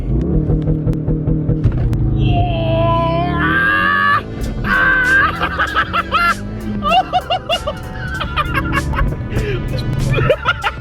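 Modified VW Golf Mk5 launching hard from a stop at traffic lights, its engine revving up loudly and climbing through gears with sharp shift breaks, heard from inside the car beneath people laughing and talking.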